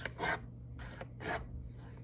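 A blade is drawn across coarse sharpening stones, giving three short, rasping strokes in a steady rhythm. It is close and fairly quiet over a low steady hum, with no voices.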